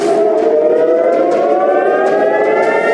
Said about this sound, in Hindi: रविवार तड़के 6:30 बजे इजराइल में सायरन बजने लगे